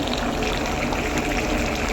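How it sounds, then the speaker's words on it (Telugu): Chicken pieces fry in hot oil in a dhaba kitchen, giving a loud, dense, unbroken sizzle that holds steady throughout. "ఇప్పుడైతే ఆయిల్లో ఫ్రై అవుతూ ఉన్నాయి"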